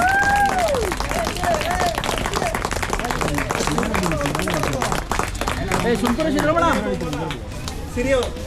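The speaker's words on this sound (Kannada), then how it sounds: "ಹೊಡಿರಿ ಚಪ್ಪಾಳೆ ಹೊಡಿರಿ" A group claps at a prize giving during a friends' get-together, with sustained, fairly close clapping mixed with crowd chatter and people talking throughout.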